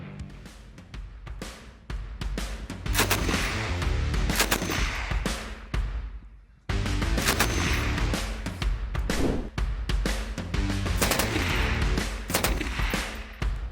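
FN MAG machine gun firing after its gas regulator is turned fully up, loud sustained bursts of rapid automatic fire with a short break in the middle.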